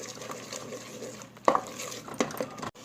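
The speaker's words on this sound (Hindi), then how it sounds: "अब हम चमचे से इसे मिक्स करेंगे।" A spoon mixes a spinach and potato (aloo palak) mixture in a pan, giving a soft, steady stir with two brief metallic clinks, quiet and close.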